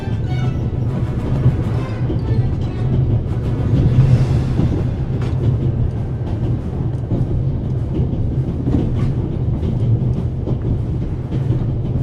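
A video game steam train from The Raven - Legacy of a Master Thief rumbling steadily along the rails, a continuous low roar with faint rhythmic clatter and occasional metallic squeals.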